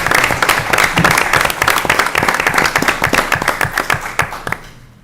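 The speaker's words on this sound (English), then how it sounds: "let's give them a round of applause." An audience at a city council meeting applauds veterans, a close, lively burst of individual claps with a quick uneven rhythm that thins and fades out toward the end, with no talking heard.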